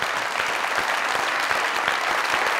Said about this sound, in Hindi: ढेर सारी तालियों के साथ